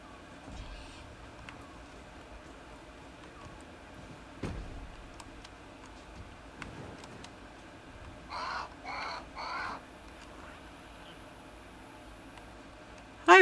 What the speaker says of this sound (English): My god, that bird is enormous.